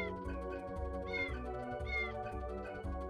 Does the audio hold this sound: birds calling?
no